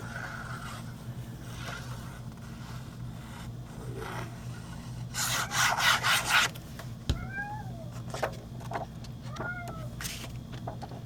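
A cat meows several times in short, rising cries, fairly close, over a steady low hum, with a brief scraping burst partway through.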